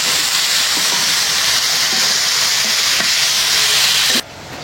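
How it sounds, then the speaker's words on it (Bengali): Taro (kochu) sizzles steadily in a pan as it is fried and stirred, a continuous loud hiss with faint scraping taps, cutting off abruptly near the end. "কচুটা একটু কষাই নিলাম"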